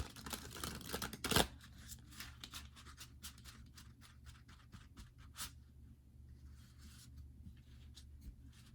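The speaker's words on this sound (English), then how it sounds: "I'm just going to do one quick side shuffle" Tarot cards get a quick side shuffle, a loud scrape followed by a series of soft, rapid card flicks that thin out and fade into quiet.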